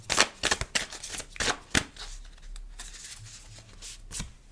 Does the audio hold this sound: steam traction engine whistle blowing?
no